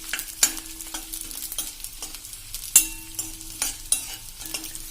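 Edible gum sautés in a pan over a low gas flame, a quiet steady sizzle punctuated by repeated sharp scraping stirs at irregular intervals, with no voices.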